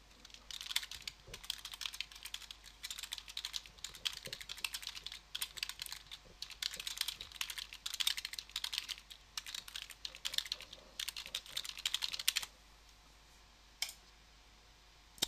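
Rapid clicks of typing on a computer keyboard come in irregular bursts close and fairly quiet, stopping near the end with one last tap.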